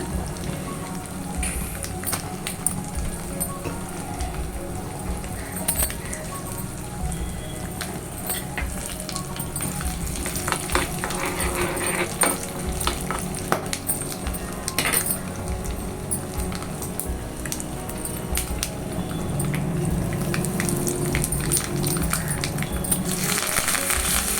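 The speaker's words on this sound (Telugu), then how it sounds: "మూడు వెల్లుల్లి రెబ్బలు ఒక స్పూన్ తాలింపు గింజలు మూడు ఎండుమిర్చి కొంచెం ఇంగువ కొంచెం కరివేపాకు వేసుకొని ఒకసారి బాగా మిక్స్ చేసుకోవాలి" A tempering of garlic cloves, seasoning seeds, dried red chillies, asafoetida and curry leaves fries in oil for sambar, giving a continuous crackling hiss with scattered pops and occasional utensil clinks throughout.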